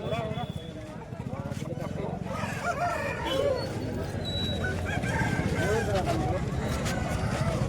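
A rooster crows amid a busy hen market in Bhadradri Kothagudem, the call rising over constant chatter and voices of people bargaining nearby.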